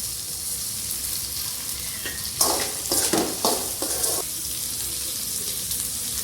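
Green peas sizzle in a pan while a utensil stirs and scrapes them in several short bursts, then the frying settles to a steady hiss.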